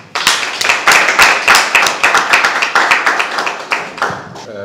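A conference audience claps for a speaker about to present on economic intelligence, producing loud, close, rhythmic clapping with distinct individual hand strikes that fades slightly near the end.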